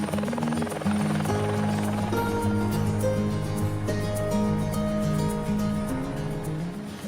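A helicopter flies over rural land, its steady rotor drone loud and close throughout, holding the same level with only slight swells and no talk.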